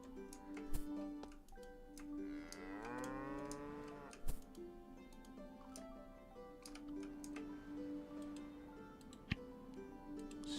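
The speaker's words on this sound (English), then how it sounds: "Let's milk all the cows since they're all right here." Cows in the video game Project: Gorgon give several drawn-out moos over a farm ambience, with a steady ticking running underneath and occasional sharp clicks.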